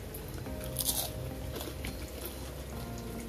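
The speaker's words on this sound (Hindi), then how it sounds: "आप आवाज़ सुन रहे हैं ना, कितने क्रिस्पी समोसे रेडी हो गए हैं।" Crunchy bites into a crispy onion samosa made with samosa sheets, a few crisp cracks close by over a steady background hiss.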